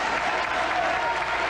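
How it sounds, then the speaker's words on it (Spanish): A boxing crowd at a Peruvian national junior welterweight title fight breaks into steady, dense applause, continuous and fairly loud throughout. "Comienzan los aplausos nuevamente, que se habían enfriado."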